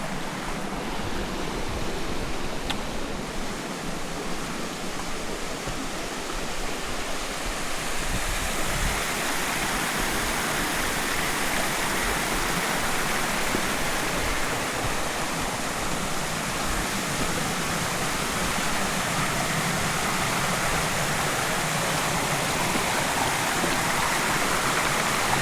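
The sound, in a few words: Julia Lynn Falls waterfall in Kentucky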